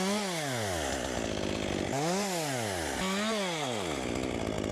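Chainsaw running loud and close while cutting pieces from a tree during a climb to remove a dangerous hanging branch, its pitch dipping and rising in three cutting pulls with a steady roaring drone throughout.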